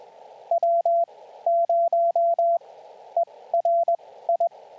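A steady Morse code sidetone keys out an amateur radio callsign for Summits on the Air practice, with loud clean beeps in short and long bursts over a soft hiss and no speech.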